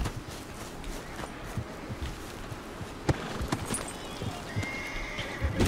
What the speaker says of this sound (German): Die Pferde hier sind dezent in Aufruhr.